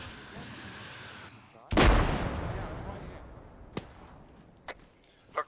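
In a Desert Storm military video game, a single heavy weapon shot bursts out loud and close, then rumbles away in a long decay, followed by a few fainter, sharper cracks.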